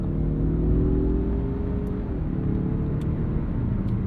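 A Mazda CX-30 Turbo engine blips its revs as the manual-mode downshift is rev-matched, a steady close cabin rumble with a brief pitch shift midway and no talking.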